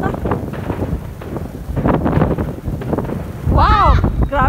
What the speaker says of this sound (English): It's blowing in the wind.